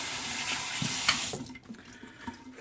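Water runs from a sink tap while someone rinses off after shaving, a steady hiss that cuts off partway through, leaving quieter splashes and drips.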